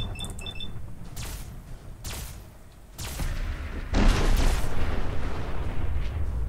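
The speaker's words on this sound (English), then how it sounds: "he stomped on something and it made a nuclear explosion." A nuclear explosion in the video game Fallout 4 goes off as a huge creature stomps: several heavy booms, then a sustained loud roaring blast that rumbles on to the end.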